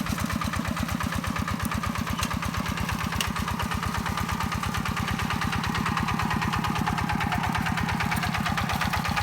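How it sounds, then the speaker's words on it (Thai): A small single-cylinder engine of a Yanmar 11.5 hp walk-behind tractor harrowing a rice field chugs steadily and loudly up close, a fast regular thumping rhythm with no talking throughout. "วันนี้เราจะพามาชมรถไถเดินตามกันครับ"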